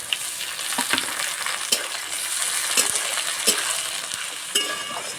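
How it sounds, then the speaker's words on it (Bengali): Chopped tomatoes frying in a pan with onion and green chillies, a continuous close sizzle punctuated by sharp clicks of a spatula stirring and scraping roughly once a second. "টমেটো ভাজা হয়ে গেছে"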